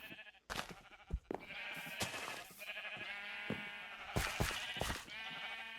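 Several sheep bleating in the video game Highworlds Curse, loud repeated harmonic calls overlapping one another with a few sharp clicks between them and no talking.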